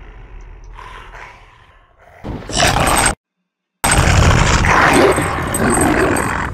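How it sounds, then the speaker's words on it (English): A chained dog in the horror video game Weird Park gives loud, close, rough barks and growls, breaking off abruptly for a moment of silence before resuming. "Thank God that dog is on a chain!"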